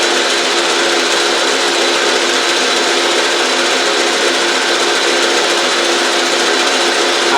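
An Autobox 8x16 metal lathe runs steadily and loudly throughout, a continuous even machine whine and hum with no talk over it.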